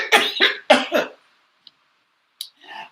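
A person coughing up close, three or four harsh, loud coughs in quick succession, then a couple of faint clicks and a softer throat sound.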